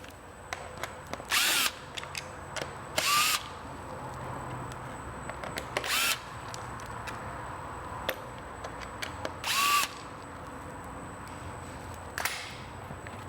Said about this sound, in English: There's 4 fasteners that hold the speedometer in place. Need a T25 Torx driver.